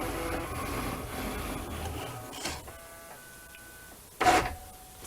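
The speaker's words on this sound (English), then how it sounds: "There it's printing." A Cricut machine printing and cutting an Easter bunny card gives a close mechanical whir, then motor hums and short whines, ending with a louder brief burst of movement.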